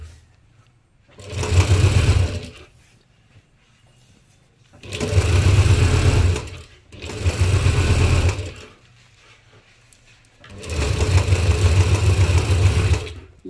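A sewing machine stitches cloth for a simple jabba in four loud, close bursts of steady mechanical whirring, each several seconds long, separated by short pauses.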